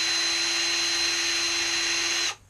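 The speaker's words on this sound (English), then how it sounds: "go to town drilling" A power drill whines steadily as it bores a pilot hole into a chatterbait fishing lure, one continuous close run of about two seconds that cuts off sharply at the end.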